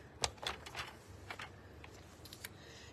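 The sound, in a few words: cutting cardstock with a paper trimmer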